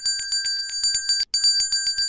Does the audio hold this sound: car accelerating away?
no